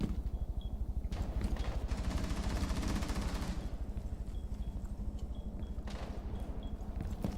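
Rapid automatic gunfire from a Rainbow Six Siege match, dense bursts of shots running continuously at close range with no talking.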